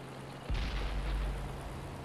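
Tank blowing up in World of Tanks on Xbox 360, a sudden heavy low boom that hits hard and then rumbles on under a continuous game background drone.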